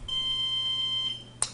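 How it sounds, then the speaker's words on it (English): A Nexus DSC telescope controller gives an alarm as a steady, high electronic beep tone lasting about a second, close and clear, followed by a brief click. "That particular item is below the horizon, so we got the alarm sound from Nexus."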